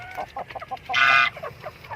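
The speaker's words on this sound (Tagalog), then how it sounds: "Check na natin tong ating mga alagang manok guys Ito yung 12 Na manok ko" Native chickens kept as backyard poultry clucking in a quick series of short calls, with one louder, sustained squawk in the middle, close by and with no talking.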